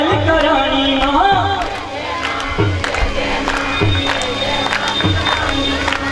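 A devotional crowd chanting "jai jai maa" together, many voices rising and falling in rhythmic call-like bursts over background music, loud and close with percussive beats.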